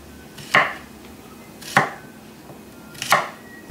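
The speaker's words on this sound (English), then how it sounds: "I'm going to cut my stems reasonably short." Kitchen knife slicing through wild backyard mushroom stems on a cutting board: three crisp, separate chops about a second apart, close and clear with no talking.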